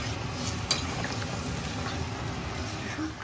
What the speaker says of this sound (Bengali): এবার ভালোভাবে ফুটিয়ে নিচ্ছি